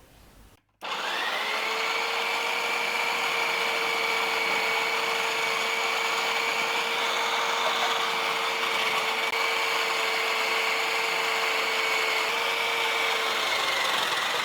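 An electric mixer grinder starts abruptly and runs at a steady, loud, high whine while blending papaya for payasam, sustained with little change until the end.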